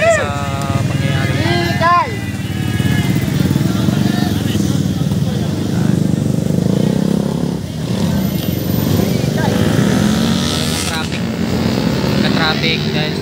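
Motorcycles and cars idle and rev in a traffic jam on the Marilaque mountain road after a motorcycle crash on a curve. Engines rumble continuously with occasional revs, and voices talk over them.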